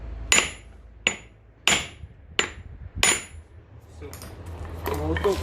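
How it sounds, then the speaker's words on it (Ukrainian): A hammer strikes a car's front wheel hub during a bearing replacement, five sharp metallic blows at roughly even intervals with ringing decay, followed by softer clattering and a brief voice. "Молоток отскакує."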